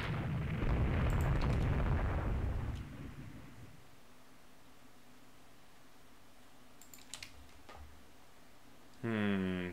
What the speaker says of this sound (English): Five inch guns.